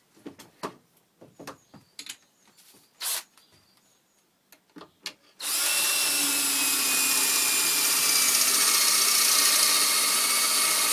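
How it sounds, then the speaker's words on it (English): Scattered handling clicks and knocks give way to a loud, continuous high-pitched whirring from a power drill boring holes in a pine shelf, running on. "let's get on with drilling it."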